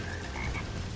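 A frog croaks in the platform game Sonic Heroes, a brief low rasping call up close over constant background game noise.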